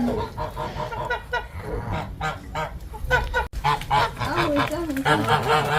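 Several geese honk repeatedly and loudly nearby, overlapping calls in quick bursts, with a voice briefly heard among them.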